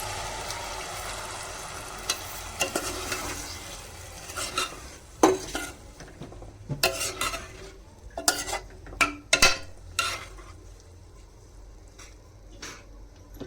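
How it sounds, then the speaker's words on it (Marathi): Ground spinach paste is stirred into a spicy egg masala in a pan, with a spoon scraping and clinking against the pan over a faint sizzle, and the strokes come in uneven bursts. "चांगलं ढवळून आता पालक टाकते, मिक्सर लावून घेतलेला"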